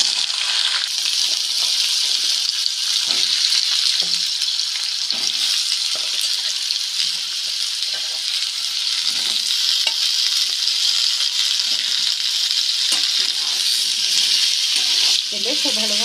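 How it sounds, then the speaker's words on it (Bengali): Diced potato cubes fry in hot mustard oil with whole cumin seeds as they are stirred. A loud, continuous sizzle with intermittent clinks and scrapes of the stirring utensil runs the whole way through. "তেলে খুব ভালোভাবে আলুগুলো আগে ভেজে নেব"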